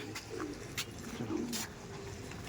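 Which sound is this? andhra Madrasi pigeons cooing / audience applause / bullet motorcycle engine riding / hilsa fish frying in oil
andhra Madrasi pigeons cooing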